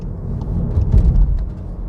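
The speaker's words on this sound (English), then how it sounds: "This car sounds alright. The engine note is quite reserved, it's quite modest" A Mk4 SEAT Leon FR gives a reserved, modest engine note while driving, a low steady rumble that swells briefly and then settles, heard alone from inside the car.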